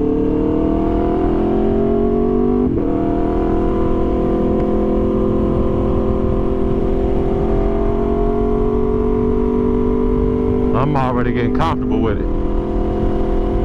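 A 2023 Aprilia RSV4 Factory motorcycle engine hums steadily with rising and falling pitch as the bike is ridden, with a sharp rev burst near the end, while someone talks over it throughout.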